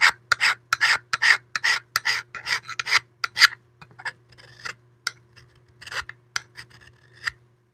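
A lathe tool cuts very hard wood while a bowl is being turned, giving a series of dry rasping scrapes in uneven bursts that thin out toward the end.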